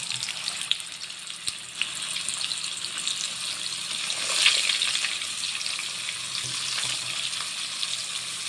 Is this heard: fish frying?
yes